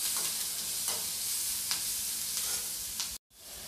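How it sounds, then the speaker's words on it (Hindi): Capsicum stir-fried in a pan, a constant close hiss of frying with a few scrape-like stirring strokes, broken by a very short silence near the end. "शिमला मिर्च आधा मिनट तक भून चुका है"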